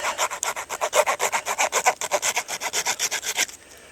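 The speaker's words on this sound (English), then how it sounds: "Just start sawing." A hand saw rasps through a deer's brisket bone in fast, steady back-and-forth strokes, roughly twenty gritty pulls, close and loud, then stops abruptly.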